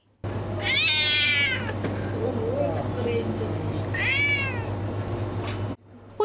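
Cats in a cat cafe give two clear, drawn-out meows a few seconds apart, close and loud, over a steady low hum with faint voices in the room.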